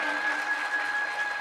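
An audience at a devotional religious discourse claps loudly and continuously, a dense wash of applause filling the whole moment.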